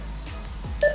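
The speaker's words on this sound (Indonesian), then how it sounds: "Nah, ini suara beep ini" A single short electronic key beep from an Alinco DR-735T radio sounds near the end, a clean tonal blip over a quiet, steady background hiss.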